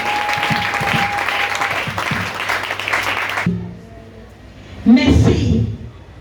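A church congregation applauding and acclaiming Jesus Christ during a testimony service, loud continuous clapping mixed with cheering voices that cuts off abruptly, followed by a burst of shouting.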